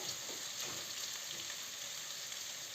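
Pieces of meat and onion sizzle in a pan while stewed cabbage is being cooked. The frying is a steady, close, crackling hiss that carries on evenly with no talk over it.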